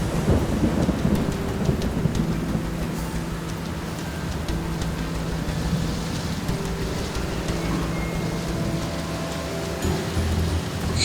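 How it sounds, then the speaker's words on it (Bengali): A cartoon storm effect of heavy downpour, a continuous dense hiss of rain with low thunder rumbling underneath. The sound stays loud and steady throughout. "জোরে বাজ পড়তে শুরু করলো। শুরু হলো মুষলধারে বৃষ্টি।"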